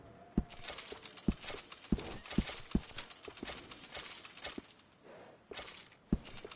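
Horse hooves clip-clop in Red Dead Redemption 2, a close, clear series of irregular hoofbeats over light background game sound.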